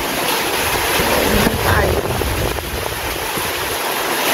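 Strong wind with rain roars steadily through the night, a dense continuous rush of noise with buffeting gusts across the whole stretch and no clear voices.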